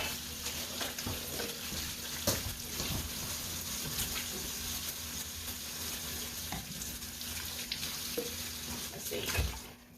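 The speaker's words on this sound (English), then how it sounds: "Put this in the sink and we'll wash my hands again to get all the zucchini off me." Water runs from a tap into a kitchen sink while hands are washed, a faint steady splashing with occasional louder splashes and clinks and no talking.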